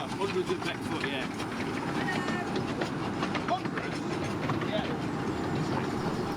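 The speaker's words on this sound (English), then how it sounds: "As I had a brief window before my train was due to leave, I took the opportunity to go and admire the incoming loco." Steam locomotive arriving on the Ravenglass and Eskdale narrow-gauge railway, a steady rolling rumble with faint clicking and hiss throughout, with people talking nearby.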